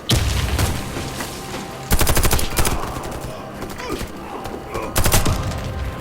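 Automatic gunfire in the shooter game Warface comes in rapid bursts, with three dense volleys separated by quieter stretches of battle noise, all loud and close.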